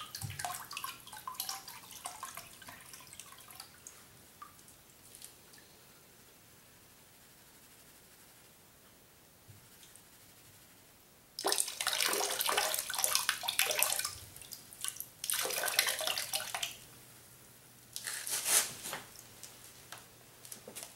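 Water is tipped out of a gold pan at a prospecting site, coming in three strong gushing, splashing pours in the second half after a quiet stretch with faint drips and trickles.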